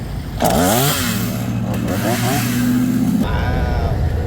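A chainsaw revs up loudly, bogging and rising in pitch as it cuts through a fallen tree after a hurricane, then keeps idling close by.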